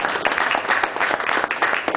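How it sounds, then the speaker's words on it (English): Applause from a gathered audience for a woman who has just performed a prayer, a steady patter of clapping that fills the moment without a break, with no voices over it. "Let's give her a round of applause."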